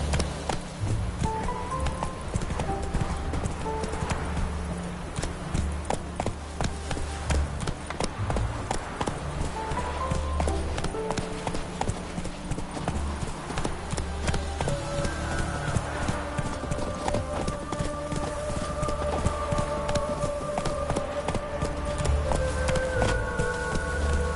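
Horse gallops in the video game Witcher 3, a steady clip-clop of hooves running continuously over a bed of game music and ambient sound, with someone speaking briefly.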